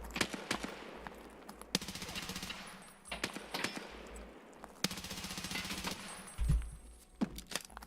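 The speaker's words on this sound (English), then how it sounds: "he's getting shot by the snipers" Gunfire from snipers in the game Escape from Tarkov, with repeated sharp shots and short bursts at uneven intervals, some close and loud, others more distant, plus faint footsteps between them.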